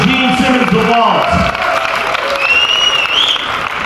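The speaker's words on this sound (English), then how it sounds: "Give them a big round of applause." Audience applause at a Gene Simmons Vault presentation aboard the KISS Kruise, loud and sustained clapping with some cheering and whoops, mixed with a voice and tonal sounds over about four seconds.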